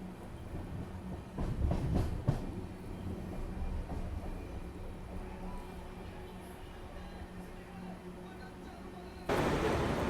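The Murudeshwara Express from Bangalore to Murdeshwara rumbles along in a low, continuous drone with a louder surge early on, heard from on board and then opening into brighter noise near the end.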